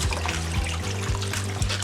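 Warm water runs and trickles steadily over soy mince being rinsed in a kitchen, a close, continuous splashing wash with no talking.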